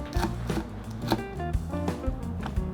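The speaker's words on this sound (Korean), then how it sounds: "청양고추는 반을 가른 후 씨를 빼서 잘게 썰어주세요." Knife finely chopping deseeded Cheongyang chili peppers on a cutting board, a steady run of close, crisp taps at an even rhythm, with no talking.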